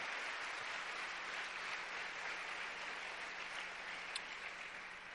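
Faint, steady clapping from a church congregation during a Spanish-language sermon, an even wash of hands with no voices over it, heard at a distance.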